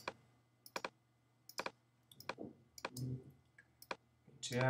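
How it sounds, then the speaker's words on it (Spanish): Computer mouse clicks while editing in Photoshop, a sparse series of crisp, close single and double clicks at irregular intervals over a quiet background, with a faint low hum and a soft voice at the end. "Pinche y arrastro, hago otro clic."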